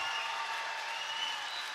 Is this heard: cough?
no